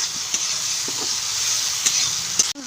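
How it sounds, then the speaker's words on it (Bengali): Ginger-garlic paste frying with onions in a pan gives a steady close sizzle, with a few light scrapes of the stirring spoon, before it cuts off abruptly near the end. "এতে দিয়ে দেবো আদা রসুনের পেস্ট, দিয়ে এটাকে ভালো করে একটু কষিয়ে নেবো।"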